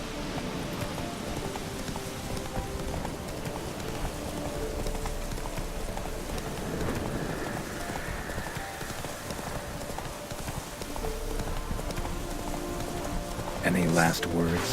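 Hooves of Roach, Geralt's horse in The Witcher 3, clip-clop steadily at a trot through rain and ambient game sound, with a brief louder clatter near the end.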